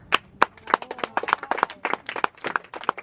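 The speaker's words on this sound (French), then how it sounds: "Applaudissez pour Afi encore." A small audience claps for a performer, sparse and uneven claps from a few hands, close and fairly crisp, with no talking over it.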